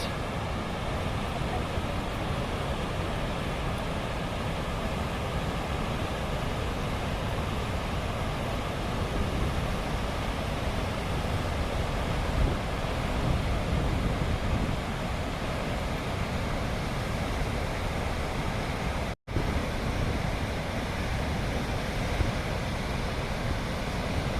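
Distant Horseshoe Falls at Niagara Falls, heard as a steady broadband roar that continues unbroken throughout, with one brief dropout near the end.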